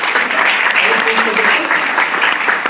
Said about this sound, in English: let's make a nice big round of applause for David